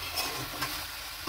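Chicken being sautéed with salt in a pan, a dense, close sizzle with brief stirring scrapes over a steady hiss.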